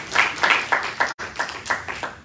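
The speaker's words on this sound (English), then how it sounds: "Give him a hand clap of praise." A church congregation at a homecoming service claps hands in praise, loud rhythmic bursts of clapping roughly every quarter second, with a brief break in the middle.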